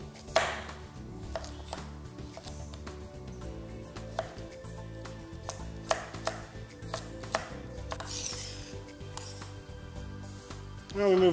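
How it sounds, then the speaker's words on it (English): A knife chops peeled carrots into rough dice on a cutting board, a run of sharp, close taps at an irregular rhythm with a faint background hum. "And again, we want to chop those into dice"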